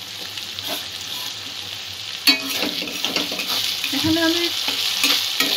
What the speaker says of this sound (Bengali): সমস্ত উপকরণগুলো একটু কষিয়ে নেব।